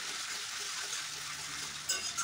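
Ginger garlic paste fries in a pan over a medium-low flame with a constant close sizzle, then a couple of brief scraping stirs near the end.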